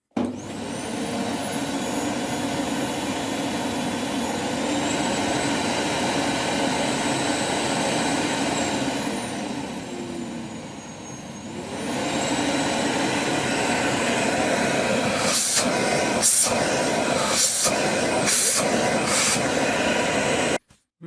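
A Samsung VC3110 bagless vacuum cleaner with an anti-tangle turbine runs at a loud, steady whine, dips briefly midway, then recovers, with a few sharp clicks near the end before it stops.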